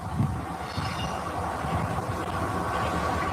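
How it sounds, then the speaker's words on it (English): A train pulls out of Basalt sidings heading southbound, a loud, continuous rumbling roar with rattling and wind noise throughout. "That train's just coming out of basalt sidings, going southbound."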